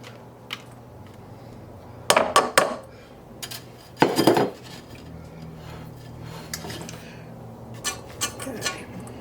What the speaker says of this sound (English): And we're going to put our beans into the pot.